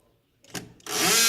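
A power drill drives a screw into a door during a repair and installation job, with a short burst and then a loud, sustained whir after a brief quiet start.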